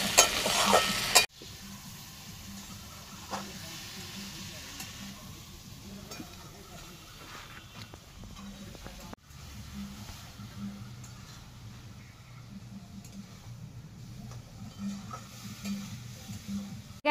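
Prawns and taro stolons fry in oil in a pan, a low steady sizzle with occasional stirring scrapes; a loud burst opens it before settling, and faint background voices come and go.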